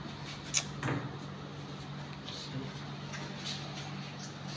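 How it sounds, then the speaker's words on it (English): Painted wooden cabinet doors in a beauty parlour swing open with a couple of quick, close knocks and clicks early on, over a steady low hum and a faint voice. "Open the doors."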